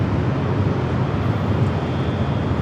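An airliner at LAX bound for Portland roars on its takeoff run as a dense, steady low rumble of jet engine noise, heard from a distance with no talk.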